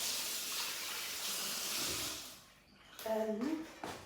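Rice is washed under a running tap: a steady rush of water flows for about two seconds and fades, followed by splashing and a brief voice.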